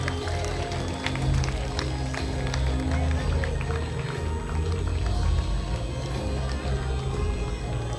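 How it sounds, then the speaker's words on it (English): A crowd keeps applauding at a medical training college graduation, a long, steady patter of many hands under a low hum, with voices rising over it now and then. "Let the clapping continue."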